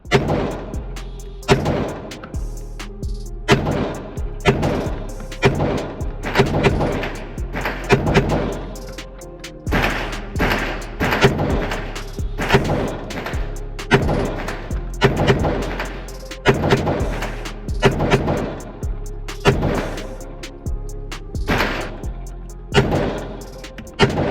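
Sharp, loud pistol shots from a Smith & Wesson Shield Plus fitted with a carry comp, fired repeatedly in a steady string with brief gaps between shots, close and dominant throughout.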